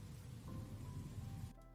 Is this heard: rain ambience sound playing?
yes